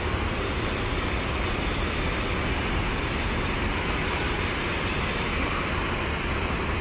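An airport train at SFO rumbles steadily close by, a continuous loud rolling roar of wheels and motor that holds level throughout with no talk.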